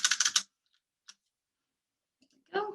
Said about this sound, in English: So you can type that in.